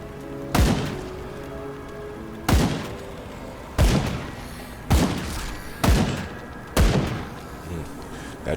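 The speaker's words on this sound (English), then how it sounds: "That shotgun packs a wallop." Six heavy shotgun blasts boom out in the video game Grim Dawn, each a sharp loud crack with a rumbling tail, fired at irregular intervals about a second apart with no talking.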